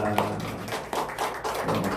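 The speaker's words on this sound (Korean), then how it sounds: "우리 박수로 한번 환영하고 인사 한번 하시고 일어나 보세요" A church congregation claps to welcome visiting guests, with a few soft scattered claps under ongoing talk in a reverberant room.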